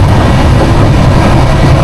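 The Golden Temple Mail, running from Mumbai to Amritsar at about 110 km/h, fills the carriage with a loud, constant low rumble and roar and no voices.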